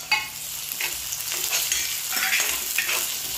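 Two small onions sizzle steadily in oil with cooked ginger and garlic for a prawn masala, with a broad continuous hiss broken by a few soft stirring scrapes, close and fairly loud, no talking.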